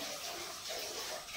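Water running for a bath at home, a soft continuous rushing hiss that stays even and fairly faint from start to end.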